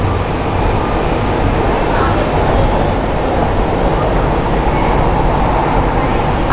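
Inside a moving Kochi Metro train, a loud steady rumble and rushing roar fills the cabin without pause, with talk audible over it.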